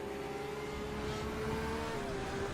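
A GTE race car engine at Road America in a sim racing replay drones with a steady, loud, sustained pitch, holding nearly constant with slight wavering as the car comes through the final bend.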